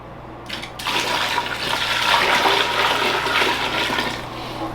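Steady rushing pour of water into a bonsai pot set in a plexiglass tank, close and continuous, a bright splashing wash that starts abruptly and runs without a break.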